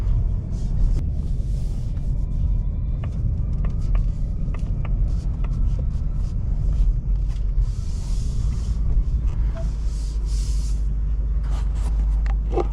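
A 2024 Ford Mustang GT with its 5.0 V8 and manual clutch cruises along, heard from inside as a steady low engine rumble with road noise, continuous and fairly loud throughout.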